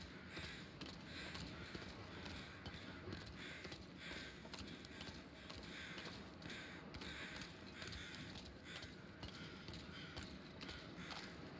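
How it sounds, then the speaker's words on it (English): Crows caw in the video game The Long Dark, a faint, repeated calling over a steady, dense wind-like background that runs throughout. "I can hear the animal behind me, the crows."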